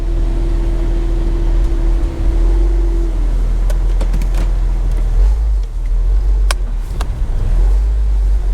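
Porsche Boxster with a stick shift driving, a steady loud engine rumble and road noise throughout, with a brief whine fading out partway and a few short clicks and knocks.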